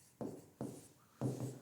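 Marker or chalk writing on a board during a maths lesson: three brief, faint scraping strokes separated by quiet pauses, with no voice.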